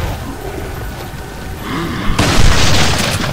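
A pump shotgun fires in Resident Evil 4, a sudden loud, booming blast over rumbling game ambience that stays noisy and sustained afterward.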